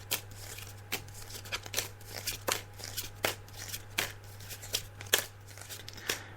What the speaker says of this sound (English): I'm just laying out the cards now